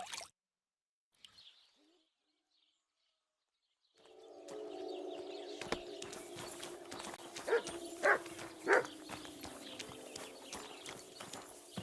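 Dog in the video game Kingdom Come Deliverance 2 gives a couple of short barks amid game ambience of clopping hooves and chirping birds, which begins after several seconds of near silence.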